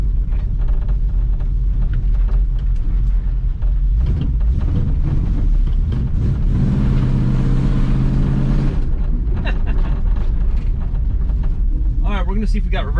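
An abandoned, revived Ford Mustang runs and drives, its engine a loud, rough rumble with a swell of revving in the middle. People talk over it throughout at close range.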